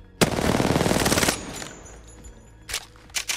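Rapid automatic gunfire from Apex Legends gameplay: a loud, dense sustained burst of about one second, then a few scattered sharper shots and impacts after a lull, with no talking.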